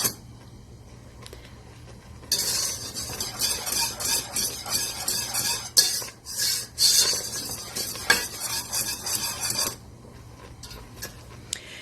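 Wire whisk stirring thickening béchamel sauce in a pot for pastitsio, a rapid rhythmic scraping and clinking against the metal pot for several seconds, alone and fairly close, before it fades back to quiet.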